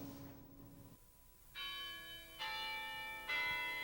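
A campus bell at a university rings out three clear, resonant strikes at steady intervals, each one slightly louder, with each chime lingering and ringing on in a quiet outdoor setting.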